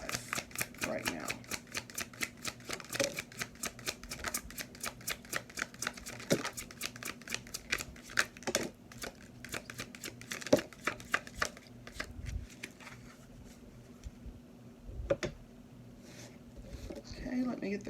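Tarot cards being shuffled make a long run of rapid, crisp riffling flutters and soft taps, close and fairly quiet, repeating in bursts with brief pauses and a faint steady hum underneath.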